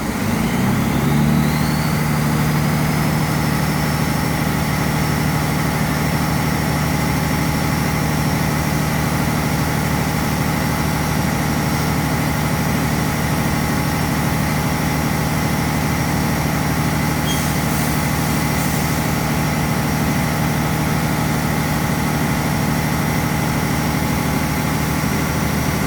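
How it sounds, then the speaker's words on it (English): A truck engine held at about 1500 RPM drones steadily and loudly up close during an air brake check, with a constant low hum and a brief faint hiss partway through as the air governor cuts out. "Now I'm going to raise my RPMs back to 1500 and listen for my governor to cut out"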